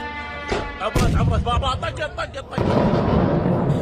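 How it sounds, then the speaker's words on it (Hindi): A heavy, booming blast with a broad rumbling roar that lingers, preceded by someone talking over it. "टारगेट को हिट होते ही देखिए जोरदार धमाका होता है।"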